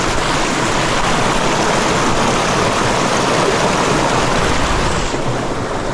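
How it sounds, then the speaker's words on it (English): Water pours steadily over a small spillway with a vent and grate beside a bridge, a loud, continuous rushing wash that fills the whole clip without a break, close and unaccompanied by any voices. "we got this really cool water feature. Check this out. This little like spillway with the vent"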